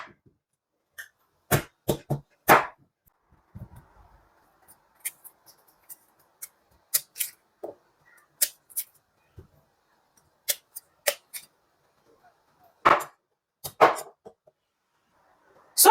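Cassava is sliced with a knife, producing sharp, crisp cuts and taps at an irregular pace, close by and separated by silence.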